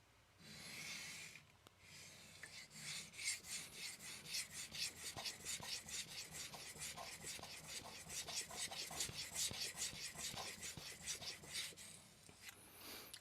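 An Aogami 2 steel knife strokes back and forth on a King resin bonded diamond 1k stone. Each pass gives a rhythmic, gritty rasp, repeated a dozen or more times at an even pace, close and quiet, with no talking.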